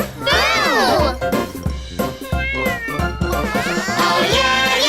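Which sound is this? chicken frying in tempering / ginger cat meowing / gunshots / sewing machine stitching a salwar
ginger cat meowing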